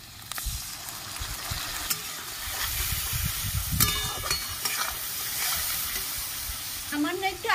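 Soaked cumin, coriander and chilli powder paste hitting hot oil in a pan with fried potatoes, a loud close sizzle and spatter with scraping stirs, continuous and without talk.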